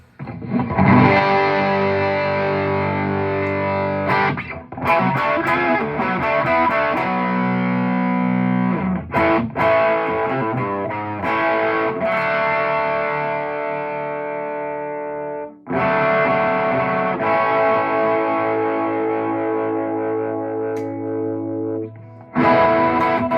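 Overdriven electric guitar with humbucker pickups through a Joyo British Sound or TC Electronic Tube Pilot pedal, playing thick distorted chords and riffs, loud and sustained, with brief pauses between phrases.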